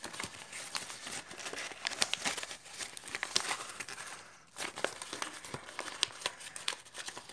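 Paper is folded and creased into an origami Recusant-class star dreadnought, with close, quiet crinkling and rustling in irregular bursts and a brief pause midway.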